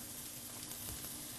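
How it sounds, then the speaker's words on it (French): Onion searing in a very hot frying pan, a steady broad sizzle and hiss that stays even throughout, fairly faint and without talk. "Dans une poêle bien chaude, déposez l'oignon pour colorer cette partie-là."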